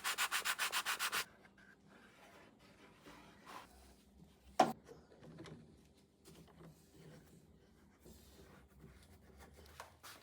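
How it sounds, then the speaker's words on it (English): Hand sanding the bottom of a wooden furniture piece: a quick burst of rhythmic back-and-forth scrubbing strokes at the start, then faint rubbing, a single sharp knock and quiet handling sounds. "So I'm just gonna hand sand that down a little bit, just the bottom needs it."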